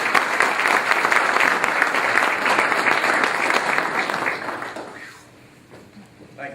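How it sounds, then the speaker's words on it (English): An outdoor crowd in Vidalia, Louisiana applauds the mayor at a public event with the governor, with sustained, loud clapping that fades out after about five seconds, leaving a quieter murmur. "Let's give your mayor a great round of applause."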